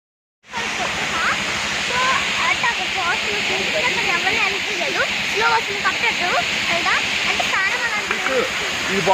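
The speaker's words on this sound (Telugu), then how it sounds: "ఈరోజు అయితే మేము వాటర్ ఫాల్స్కి వెళ్తున్నాము" Waterfall pouring steadily and loudly at close range, a dense continuous roar with hiss and splash, as a group visits falls with small children; busy birdsong chirps over the rushing water throughout.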